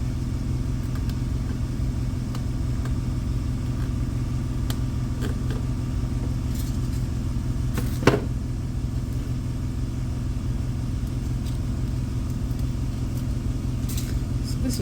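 An air compressor kicks on in a workshop during a 1957 MGA Coupe fender restoration, a steady loud motor drone and rumble running throughout with a brief knock midway.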